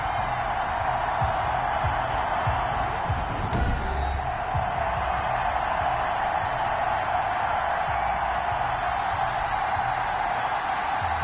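A Baltimore stadium crowd in Madden NFL 21 roars steadily throughout, a broad, continuous wash of cheering with a brief louder swell early on.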